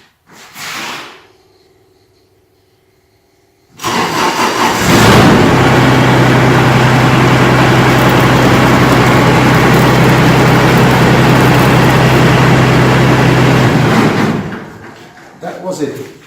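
Tractor engine idling loudly and steadily close by during a homemade potato harvester build, starting abruptly after a short quiet opening with a brief sound, then running for about ten seconds before cutting off.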